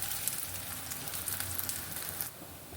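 A carrot adai dosa fries in groundnut oil on a pan with a steady, close crackling sizzle that eases slightly near the end, with no talking.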